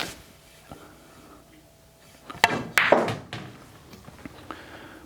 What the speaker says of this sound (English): here I'm going to shoot it with draw, no English at all